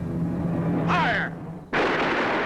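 A firing squad volley of rifles cracks loud and sharp near the end, cutting off the quiet scene tone with a sudden broadband blast that rings on afterward, in an old black-and-white drama.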